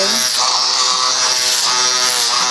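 A BaBylissPRO single-foil electric shaver buzzes close up in a barbershop during a low skin fade, a loud, steady electric hum with slight wavering as it moves over the head.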